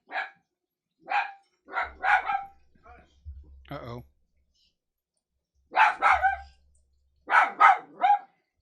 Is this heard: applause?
no